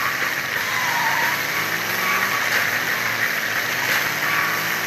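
A car engine hums and builds steadily, a continuous mid-range drone that stays loud and close throughout with no voices over it.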